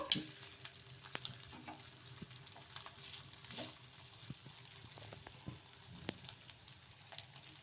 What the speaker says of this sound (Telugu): కొద్దిగా ఆయిల్ అనేది అప్లై చేసేసుకొని ఇదే విధంగా కాల్చుకోవాలి